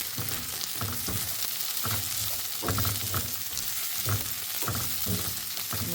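Mixed vegetables fry in a hot pan, with a steady close sizzle and repeated stirring scrapes throughout, and nobody talking.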